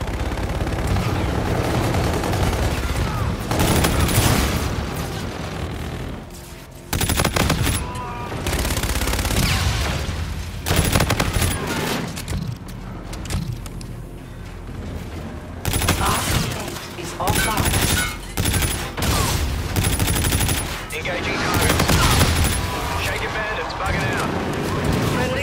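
Sustained bursts of automatic gunfire and volleys of shots in Call of Duty: Infinite Warfare during a team deathmatch, loud and dense across the whole stretch, with brief lulls and people talking over it.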